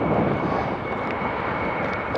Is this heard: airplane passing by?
yes